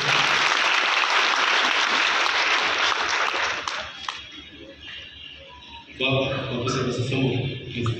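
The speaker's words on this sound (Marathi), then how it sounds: "जोरदार टाळ्या झाल्या पाहिजे" Audience applause at a felicitation ceremony where saris are presented: loud, sustained crowd clapping for about four seconds that thins out and fades, followed by a voice speaking over a microphone.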